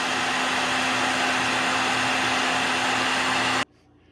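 A heat gun blasts a steady, loud broadband roar with a constant hum while heat-setting paint on a bluegill-pattern fishing lure, running unbroken for about three and a half seconds before cutting off abruptly to near silence.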